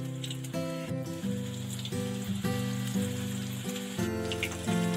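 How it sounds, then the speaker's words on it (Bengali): Cabbage pieces fry over a medium flame in a pan, a steady soft sizzle running beneath louder tonal background music. "মিডিয়াম ফ্লেমে দু পিট গোল্ডেন ব্রাউন করে ভেজে নেবো"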